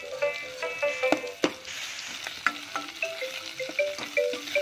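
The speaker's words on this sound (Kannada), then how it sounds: "ಬೆಳ್ಳುಳ್ಳಿ ಅದನ್ನು ಹಾಕಿ ಫ್ರೈ ಮಾಡೋಣ" Ginger and garlic fry in a pan for a bottle gourd and moong dal saaru, with a soft crackle and a few sharp utensil clacks over a faint background melody.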